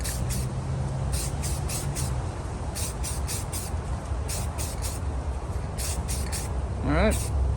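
Aerosol spray paint hisses in a series of short, sharp bursts in quick clusters, close and fairly loud, with a brief rising and falling whistle near the end and no talk.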